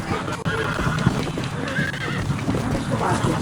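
A wild horse in Red Dead Redemption whinnies loudly while hooves clip-clop and game ambience fills the background, a continuous, busy scene with the animal close by.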